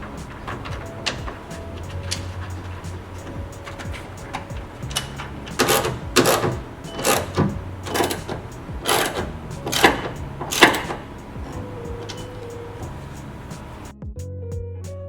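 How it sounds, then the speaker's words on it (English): Screws are driven back into the interior light panel of a 3rd-gen 2015+ Toyota Tacoma, a series of close clicking and ratcheting ticks from a screwdriver, irregular bursts over quiet background hum. "And now we could just re-screw in the screws here."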